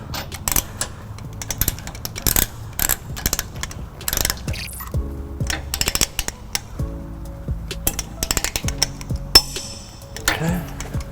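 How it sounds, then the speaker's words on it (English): Sharp ratcheting clicks from a torque wrench tightening trailer hitch bolts on a 2013 Lexus GX 460, in irregular bursts of rapid ticks across the clip, close and fairly loud, with brief gaps between pulls. "once we reach our proper torque, you should hear your torque wrench give you a click"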